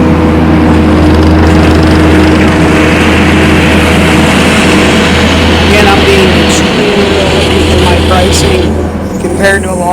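Engine of a 2015 Kubota SVL90-2 rubber track skid steer loader with cab, running steadily and loud at close range, a constant low drone with some mechanical whine throughout.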